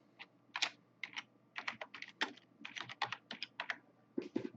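Quick bursts of keystrokes clatter on a computer keyboard, close and crisp, in irregular clusters with short pauses between words.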